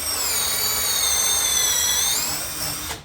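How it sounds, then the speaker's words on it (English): A Greenworks 24V cordless drill whines steadily at high speed for the full duration, a loud, continuous motor drone with a slight dip near the end, running outdoors in cold weather. "I'm letting the drill do all the work"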